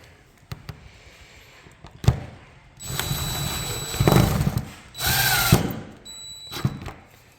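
Power drill driving screws: a few short clicks and knocks, then several bursts of whining motor and ratcheting clutch of varying length, close and fairly loud, with pauses between each screw.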